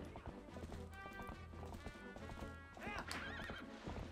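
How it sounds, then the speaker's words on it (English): Horse hooves clip-clop in a steady galloping rhythm in The Legend of Zelda: Twilight Princess HD, with a whinny rising near the end over dense game music, loud and close throughout. "I cannot control this horse for the life of me."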